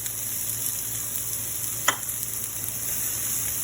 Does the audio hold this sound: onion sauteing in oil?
yes